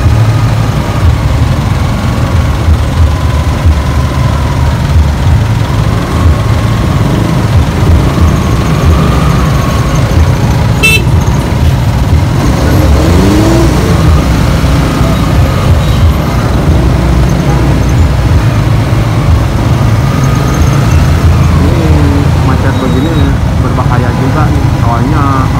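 Heavy engine drone in an Indonesian traffic jam, with angkot minibuses idling nearby. The rumble is loud and constant from start to finish, and a voice talks intermittently over it.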